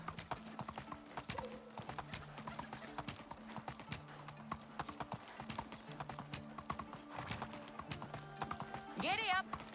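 Horse hooves clip-clop steadily in the Medieval Dynasty game while the rider travels, a continuous regular trotting beat with a short neigh near the end and a voice talking over it.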